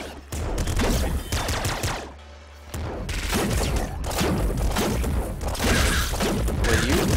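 A plasma gun fires in the video game Nuclear Throne: dense, loud bursts of blasts and impacts fill the scene, breaking off for a brief lull before resuming just as heavily.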